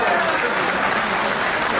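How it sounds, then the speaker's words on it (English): Audience applause at a dinner banquet welcoming a guest, a dense, steady wash of clapping from a crowd that holds at a constant loudness throughout. "Big round of applause for David Bali."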